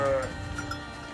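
Sheep and goats of a Bakarwal herding flock near Naran bleat, with one clear bleat at the start followed by a softer, continuous murmur of the herd close by.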